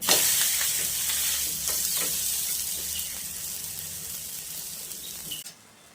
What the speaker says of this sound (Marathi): आता तव्यावर फ्राय करूया आपण तो.